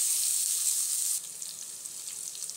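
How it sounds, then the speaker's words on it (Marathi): Tomatoes sautéing in a hot pan for South Indian sambar give off a steady, close sizzle that drops to a softer crackle partway through. "हे टोमॅटो आपल्याला हलकसं मऊ होईपर्यंत चांगलं परतून घ्यायचं आहे 1 ते 2 मिनिट।"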